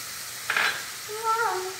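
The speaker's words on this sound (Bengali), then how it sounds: "এবার দিয়ে দিলাম ভেজে রাখা চিংড়ি মাছটা।" Fried prawns dropped into a pan of sizzling spice masala with yam and potato, a brief close hiss and stir with soft frying sizzle, no voices.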